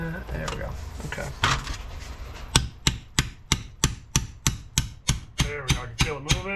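A hammer strikes a large steel punch again and again while an NP205 transfer case is taken apart, giving about a dozen sharp, evenly spaced metallic blows up close after a busier stretch of workshop clatter.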